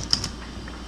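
Keystrokes on a computer keyboard as a business name is typed, a few soft clicks in a short burst with quiet background, no talking.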